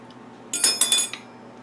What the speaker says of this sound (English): Take your fork, put some vent holes in it.